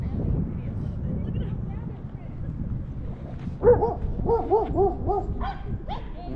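A poodle barks in a quick run of sharp yaps at a German Shepherd, rising partway through over low background rumble, with people talking nearby.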